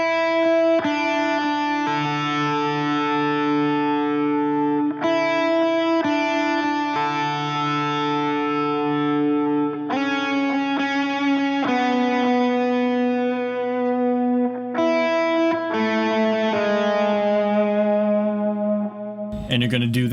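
An electric guitar run through effects such as distortion, echo and chorus plays a slow melody line of sustained, ringing notes with some chordal tones from the worship song "You Are Good", steady and upfront with no talking.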